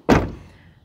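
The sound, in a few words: closing a storage door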